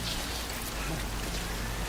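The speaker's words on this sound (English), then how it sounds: "because this timefall rain rusts out and it messes up your containers" Timefall rain pours steadily in the Death Stranding video game, a soft, even hiss of falling drops with a low rumble underneath, continuous and fairly quiet with no voices.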